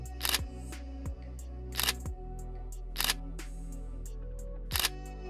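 A camera shutter fired by a Pixel TC-252 interval timer remote, four crisp mechanical clicks at irregular intervals over a steady low electrical hum, close and with no talk.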